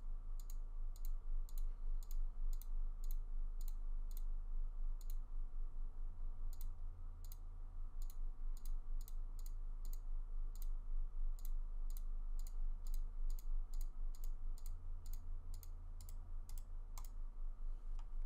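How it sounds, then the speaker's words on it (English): A computer mouse clicks at a steady, brisk pace while a character is outlined in a free online logo maker. Sharp, close, evenly spaced clicks run throughout over a constant low hum. "just click every so often and just outline your whole entire character"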